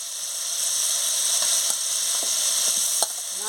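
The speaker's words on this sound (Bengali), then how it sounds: "কুমড়ো দিয়ে ভালো করে মশলার সঙ্গে কষিয়ে নিচ্ছি।" Pumpkin stirred into a spice paste of mustard, turmeric, tomato and green chilli sizzles steadily in a pan, with a few soft scraping knocks from stirring.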